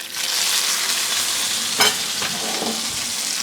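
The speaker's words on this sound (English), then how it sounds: "See it sizzling." Steak and egg fat sizzle steadily in a hot pan, a close bright crackle with a brief louder burst partway through as food is stirred or moved.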